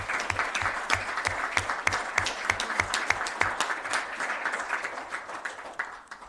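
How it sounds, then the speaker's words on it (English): A room of council meeting attendees applauds one another, steady dense clapping filling the whole stretch at moderate level, fading slightly toward the end with no talk over it. "give each other a round of applause"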